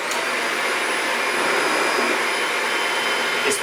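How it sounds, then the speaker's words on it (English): A Shark upright vacuum cleaner with powered lift-away runs steadily and close by, a smooth, fairly quiet broadband whoosh with a faint high whine, holding even throughout. "we'll plug it in and we'll just have a listen. Listen to the vacuum."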